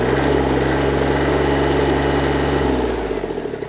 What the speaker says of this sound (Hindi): तो कुछ इतना आवाज़ करती है ट्रैक्टर जब आप इसको ये करते हैं